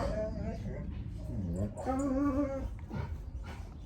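A dog whimpers and whines close by in a few rising, pleading cries, mixed with quiet household sounds and no clear speech.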